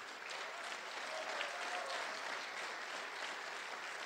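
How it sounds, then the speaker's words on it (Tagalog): A church congregation claps together in a steady, even wash of applause that holds at moderate distance for several seconds, with no voices rising above it. "Ayun ang pumalakpak mga tao rito."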